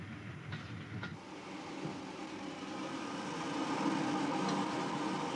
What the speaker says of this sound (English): Four carriages turned out to be a bit of a strain for the veteran loco, which had to be worked hard to make the steep grade towards Glenfinnan.